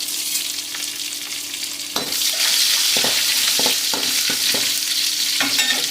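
Mustard seeds, dried red chillies and curry leaves frying in hot oil: a steady close sizzle that swells louder partway through, with irregular crackles and pops and a few stirring scrapes, no talking.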